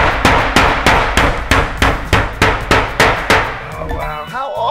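A hammer striking a nail in a steady, loud, close rhythm of about ten sharp metallic blows, ending in a brief rattling clatter.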